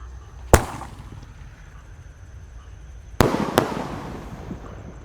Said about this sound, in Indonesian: Bazooka pelontar Roman Candle siap meluncur.